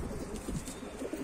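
Soft cooing from domestic pigeons of a tumbler breed, brief low murmuring calls at close range, fairly faint and blended into a busy background.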